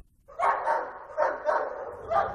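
Police cadaver dogs bark during a search of a remote farm in Tiffin, Iowa, three fairly loud bursts of barking spaced across a couple of seconds in the open air.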